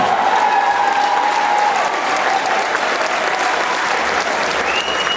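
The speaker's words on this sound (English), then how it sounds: "Round of applause." A crowd at an outdoor rally in Los Angeles bursts into loud, sustained applause, dense clapping holding steady throughout with a few whoops and voices mixed in.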